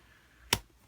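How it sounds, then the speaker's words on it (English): A single sharp snip of scissors cutting through a mouse pad, close and brief, standing out against a quiet background. "So I just take my scissors and cut up to the first line"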